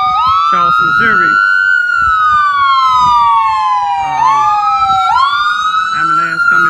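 An ambulance siren wails, sweeping up and down loudly and close, cycling several times, with faint background noise beneath it.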